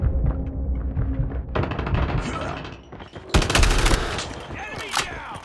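Heavy automatic gunfire roars in long, dense bursts during a Call of Duty match, loud and close, dipping briefly before a fresh, sharper volley erupts, with game chatter mixed underneath.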